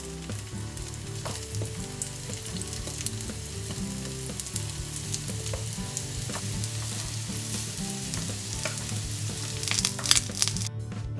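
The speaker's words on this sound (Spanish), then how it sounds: "Empezamos pasando los filetes de tempe por la plancha para que se doren un poco." Tempeh fillets sizzle and crackle steadily on a hot griddle, close and continuous for about ten seconds, with occasional scraping as they are moved around.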